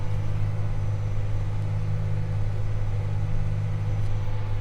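A tractor engine runs steadily while baling corn fodder, working in a lower gear after struggling in eighth. It is a loud, constant close-up drone with a deep rumbling hum and no talk.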